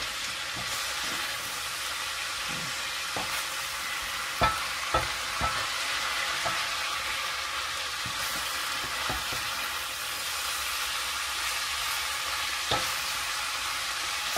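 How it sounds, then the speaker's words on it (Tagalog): Bihon noodles stir-fried with pork, dark soy sauce, salt and black pepper give a steady, even sizzle, broken by a few sharp clicks of a utensil scraping the pan, with no talking. "Simple fry noodles ang ating gagawin guys with pork meat."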